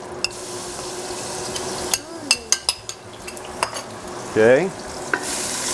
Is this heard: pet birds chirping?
no